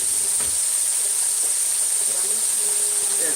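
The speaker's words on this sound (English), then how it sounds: "Miss Cynthia said kind of like frying chicken steak" Cube steak frying in a pan gives a steady, even sizzle and hiss that runs unbroken throughout, with faint voices in the background.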